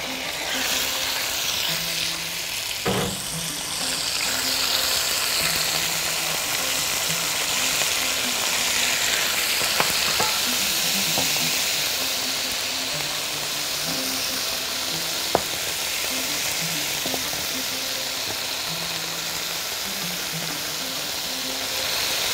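Chicken sautéing in oil in a preheated pan gives a steady, close, hissing sizzle that runs unbroken, with occasional spatula scrapes and clicks against the pan and no talk.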